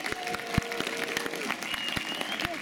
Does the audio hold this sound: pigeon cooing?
no